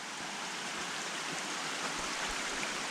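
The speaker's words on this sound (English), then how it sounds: "I can hear the water flowing down below" Snowmelt stream at Muddy Fork below Mount Hood, fed by glacier runoff, rushing in a steady broadband wash that fills the whole stretch without pause, close and constant with no voices.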